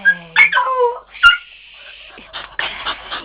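A young puppy whimpers and yips close by, a few high, wavering cries in short bursts, followed by rustling and small movement sounds.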